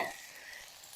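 Vegetables and mushrooms stir-frying in a pan outdoors in a forest, a short burst of steady hissing sizzle that stays even and close throughout.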